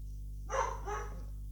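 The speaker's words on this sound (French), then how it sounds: "Oh, désolé pour les chiens." Dogs bark twice in quick succession, fairly near, over a steady low electrical hum in a quiet room.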